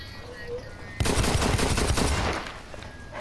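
Gunfire in the first-person shooter Blacklight: Retribution: a loud, dense stretch of rapid shots lasting about a second and a half, with quieter game ambience before and after.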